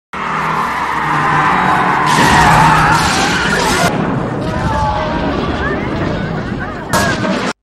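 Race car crashing during a test: tire squeal and engine noise build, then a series of sharp impact bangs and crunching debris, loud and close, with a final smash near the end.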